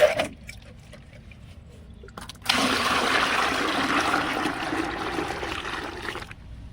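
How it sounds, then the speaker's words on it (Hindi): About five litres of water gush and pour into a fresh cow dung and jaggery mixture, a sudden loud steady splashing that starts after a quieter stretch and runs for several seconds before cutting off. "अब इसमें मैंने पानी डाल दिया है 5 लीटर और इसको हम इस तरह से चला रहे हैं"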